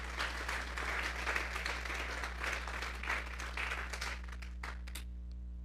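A church congregation gives a strong round of applause to the Lord, many hands clapping steadily over a low electrical hum, fading out near the end.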